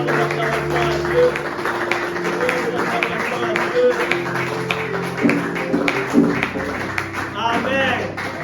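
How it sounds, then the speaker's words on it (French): A church congregation claps and cheers during a French-language Christian service, with dense, sustained hand-clapping mixed with shouting voices and scattered exclamations, steady and close throughout. "Donnons des acclamations à Dieu."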